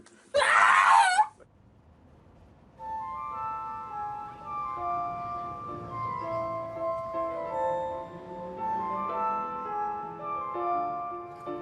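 A person imitates a falcon's scream with one loud, shrill cry lasting about a second. A brief silence follows, then sustained musical tones that carry on to the end.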